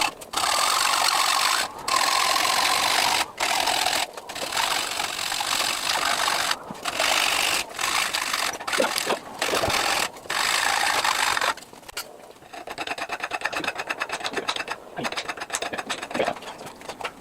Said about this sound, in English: So yeah, just sawing down the bars now.